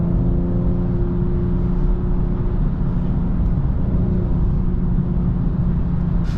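A BMW M240i drives through daytime city traffic, its engine giving a steady, close, continuous low rumble and whir with mild acceleration and no pauses, heard from inside the cabin.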